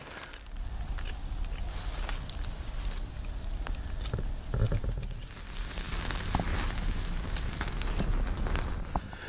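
Steaks cooking on campfire coals at a hammock campsite give a steady, close crackling sizzle with scattered pops and snaps running throughout, with faint background noise and no talk.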